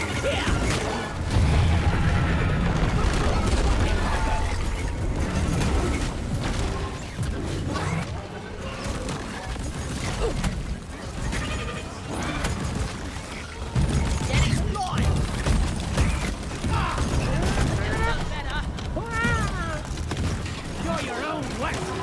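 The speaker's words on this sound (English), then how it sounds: "These thermal grenades are so potent." Thermal grenades explode amid frantic combat in modded Deep Rock Galactic, with repeated crashes, bursts of gunfire and mechanical clatter layered over constant talk.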